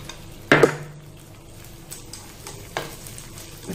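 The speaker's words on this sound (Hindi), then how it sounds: "इस गोंद को फ्राई करेंगे।" Babul gum frying in a pan for wheat laddu, a low sizzle with a couple of sharp clatters and scrapes as it is stirred, otherwise fairly quiet and without talk.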